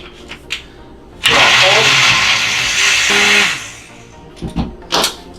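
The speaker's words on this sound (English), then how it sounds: "at least your blender will mix it adequately" A countertop blender whirs loudly for about two seconds, mixing a protein smoothie, then winds down, with brief clicks and knocks before and after.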